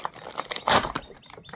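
Close, crinkly rustling of plastic packaging being pulled and torn by hand from a WWE Rey Mysterio action figure box, in short uneven bursts.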